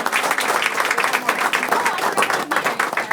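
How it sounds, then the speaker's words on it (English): A board meeting audience breaking into applause, steady dense clapping throughout, with faint voices mixed in under it. "Let's give them a round of applause."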